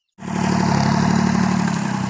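A small tractor engine starts up and runs steadily close by, a loud, rough, rhythmic chugging that holds a constant idle.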